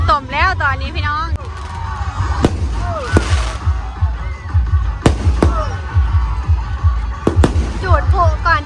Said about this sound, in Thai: จุดพลุก่อนจะยิงบังไฟแสน